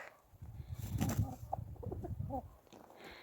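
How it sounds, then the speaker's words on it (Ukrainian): A rooster gives soft, low clucking calls to a hen, close by and fairly quiet, with faint bird sounds in the background. "Півень заграє до своєї курки."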